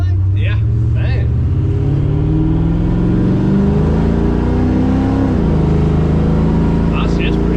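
A drag car on a test drive accelerates loudly from inside the cabin, its engine droning and climbing steadily before a sudden drop in pitch as the torque converter locks up, with brief voices early and late.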